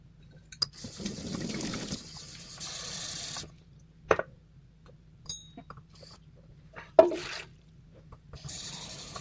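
Water runs from a kitchen tap into a bowl while making a loaf of bread, heard in short separate bursts of splashing flow with quiet gaps, small clinks and a drip between them.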